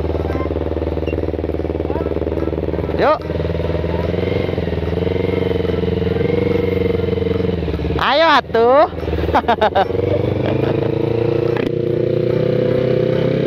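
A motorcycle rides along a road near a toll route in Bali, a steady engine drone throughout with brief rises in pitch, while people talk over it.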